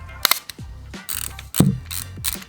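Close, crisp ratcheting clicks of an Olympus XA2 35mm film camera's winding mechanism, a few quick bursts of mechanical clicking with short pauses between.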